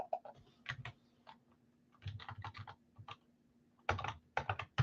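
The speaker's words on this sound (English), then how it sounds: "I start typing Philly" Bursts of typing clatter on a computer keyboard, with quick uneven keystrokes separated by short pauses, close and moderately quiet, set against a faint steady hum.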